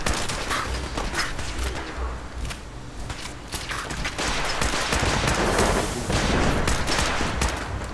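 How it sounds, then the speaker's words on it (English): Sustained gunfire in Fallout 4, a foe in power armor firing at close range: dense rapid volleys of shots, loud and continuous with booming impacts throughout. "You do not notice the man in power armor standing here shooting at you in the face."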